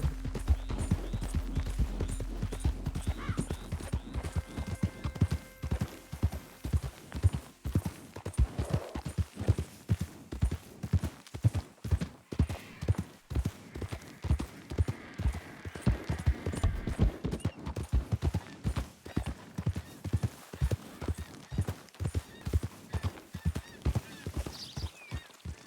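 Horse hooves clip-clop in a brisk, steady rhythm in Red Dead Redemption 2, a continuous run of close, sharp strikes with a low hum underneath and no talk.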